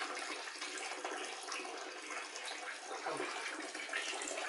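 Water runs in a steady, broad rush inside a cave temple, a continuous close wash with no voices over it.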